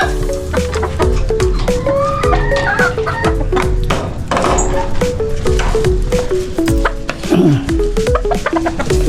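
Pet chickens cluck and squawk close by in a busy farmyard, with short irregular calls over rustling and scuffling noise and other fowl, including ducks and turkeys, around.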